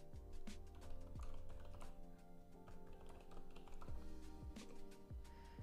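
Fingers type quickly on a hand-painted mechanical keyboard, a dense run of clicky keystrokes with a few sharper taps standing out, heard up close and fairly quiet.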